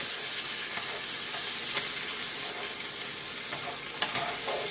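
Chopped celery sizzles steadily in a pan over medium heat, a continuous bright frying hiss with faint crackles and occasional stirring scrapes, no voices.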